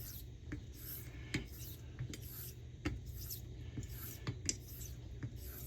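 A vintage straight razor is honed on a coticule stone in soft, rhythmic scraping strokes, each a brief rasp repeating about once a second. The strokes are quiet, close and heard alone.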